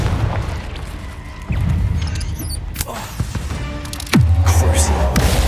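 Confringo fire spell explosions from Hogwarts Legacy: booming, crackling blasts recur over a busy game soundscape, with a loud rumbling burst near the end.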